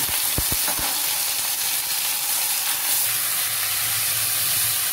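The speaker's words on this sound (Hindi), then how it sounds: "Fry with chicken for 2 minute." Chicken frying in a pan of golden oil over a low simmer flame, for a South Indian chicken stew: a steady, even sizzle and hiss running throughout, with a few sharp crackles near the start and no talking.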